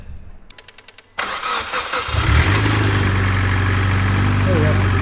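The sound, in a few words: Mitsubishi Evo X engine idling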